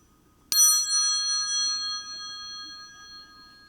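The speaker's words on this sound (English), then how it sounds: "when you hear this bell." A single bright bell strike rings out, then its clear metallic tone slowly decays over a few seconds in an otherwise quiet space.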